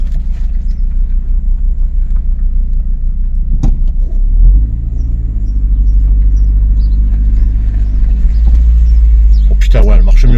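A cruiser motorcycle engine with ignition misfires idles with a low, steady rumble, then the throttle is opened in a couple of rising revs, the louder one near the end, while voices talk nearby.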